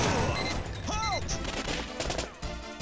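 Gunfire in the arcade light-gun game Time Crisis, with dense bursts of shots and impacts running through the whole stretch, mixed with game music and effects and short voice calls.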